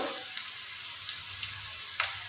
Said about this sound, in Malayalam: അതിലേക്ക് ഇഞ്ചിയും പച്ചമുളകും ഇപ്പോൾ കറിവേപ്പിലയും ചേർത്തു എന്നിട്ട് ഇളക്കി കൊടുക്കുക